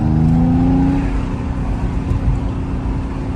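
Mercedes-AMG GT53 car moving through heavy city traffic with the windows down, a loud close engine drone with a short rising rev at first, then a steady roar and road noise.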